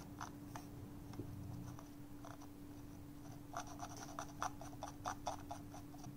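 An Aorus M2 mouse wheel is scrolled, giving faint, quiet ratcheting ticks in short irregular bursts over a steady low hum, with no talking.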